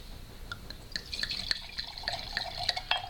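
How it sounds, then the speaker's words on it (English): Wine trickles and splashes into a glass, a soft close pour broken by small bright drips and clinks, quiet and steady with no voice over it. "you're supposed to pour that much wine"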